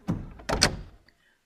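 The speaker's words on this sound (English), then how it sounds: "You hear the door open." Door opening sound effect in a tabletop role-play session: two quick, close clunks of a latch and door in succession, then a faint tap before the room falls silent.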